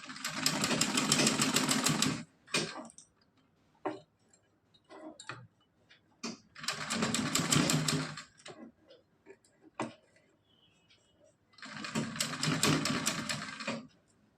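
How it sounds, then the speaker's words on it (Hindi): A sewing machine stitches a strip onto net and lace fabric in three loud, sustained runs of rapid whirring, with short pauses full of scattered clicks and handling taps between them. "यहाँ पे हम सिलाई लगा देंगे"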